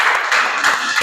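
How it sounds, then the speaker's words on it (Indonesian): A classroom audience applauds a presenting student group, a short dense burst of many hands clapping at once, close and fairly loud. "Kasih tepuk tangan dulu untuk kelompok 1 supaya semangat"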